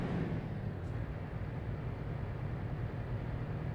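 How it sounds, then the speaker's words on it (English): A truck engine in the Euro Truck Simulator video game, with the engine brake on, gives a steady, low, quiet droning rumble with no clear changes in pitch. "The reason it's revving up like that is I've got the engine brake turned on."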